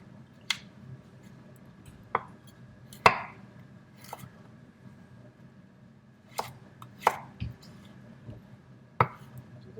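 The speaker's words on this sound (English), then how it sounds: "And then cut them into thin slices." A knife cuts carrots into thin slices on a cutting board for pasta bolognese, giving sharp, separate chops at an irregular, unhurried pace, close and clear with no talk.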